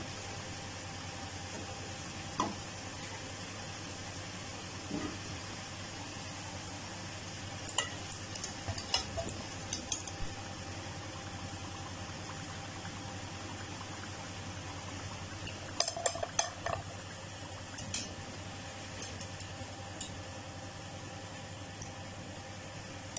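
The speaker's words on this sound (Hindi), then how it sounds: "बहुत ज़्यादा तेज़ आंच पे हमने इन्हें फ्राई नहीं करना, मीडियम स्लो आंच जो है वो रखनी है।" Potato samosa rolls frying in oil over medium-low heat, a steady soft sizzle with occasional faint clinks and taps, no talking.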